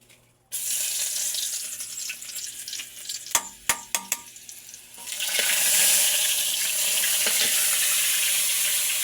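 Garlic dropped into hot oil sizzles loudly and steadily, preceded by a few sharp clanks of a utensil against the pan, with the frying hiss swelling and continuing alone.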